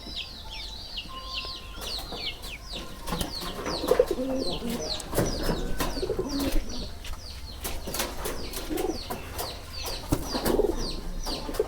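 A lakka fantail pigeon flutters and calls while trying to get back into its coop, with repeated chirpy bird calls, wing flaps and sharp clicks over a busy outdoor background.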